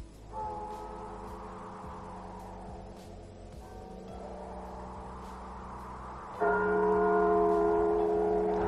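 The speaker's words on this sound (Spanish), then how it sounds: "La noche de difuntos me despertó a no sé qué hora, el doble de las campanas." Church bells tolling for the night of the dead, slow monotonous strokes that ring and hang in long sustained decays, a louder stroke arriving near the end, with no voices.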